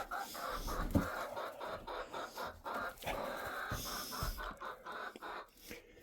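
Hens cluck and chatter continuously inside a coop, close by and overlapping in an uneven, busy rhythm with occasional louder squawks.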